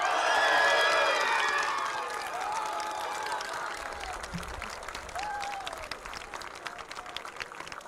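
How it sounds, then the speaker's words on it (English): A large crowd at a rocket launch applauds and cheers, loud at first and then settling into steady clapping with scattered shouts in the distance. "They are clapping because the projection was really good."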